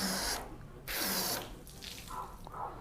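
Water rinsing and sheeting off a car coated with Bowdens Own sealant, bursts of hissing spray starting and stopping in a few pulses, close and moderately loud.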